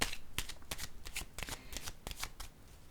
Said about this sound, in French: je vais déposer une carte ici sur attaque